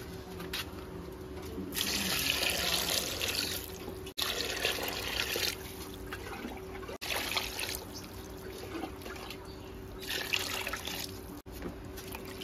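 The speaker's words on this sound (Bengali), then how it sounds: "ছালটা ধুয়ে নিই ভালো করে।" Running tap water pours steadily into a kitchen sink while chicken skin is washed beneath it, a close and continuous splashing with small shifts as the skin moves through the stream.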